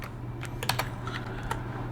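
Fingers tap out a search on a computer keyboard in OneNote, a short burst of light, irregular keystrokes close by over a low steady hum.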